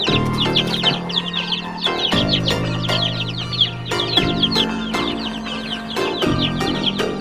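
A flock of chickens clucks continuously and close by in a coop, overlapping chatter-like calls filling the whole stretch.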